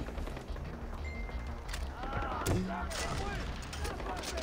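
Far Cry 4 combat with distant gunfire and a muffled explosion as an enemy blows up, fairly faint and layered under game ambience, with a voice talking at times.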